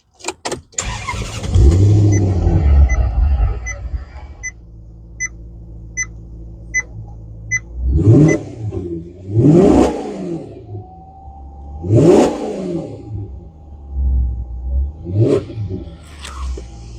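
A Maserati engine starts with a loud rumble, then a few electronic chimes sound before four or five sharp, close revs rise and fall in quick bursts.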